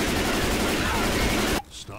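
Gunfire in the zombie shooter Left 4 Dead 2: a loud, dense, rapid burst of shots lasting about a second and a half, then cutting off abruptly into near quiet.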